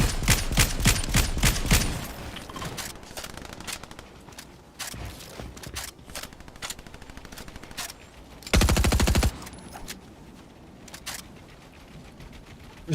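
Rapid gunfire in an online shooter video game: sharp automatic bursts and single shots, with one dense, loud volley midway and scattered quieter shots between.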